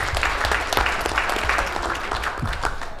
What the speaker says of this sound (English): give me a round of applause for our principal here at Jefferson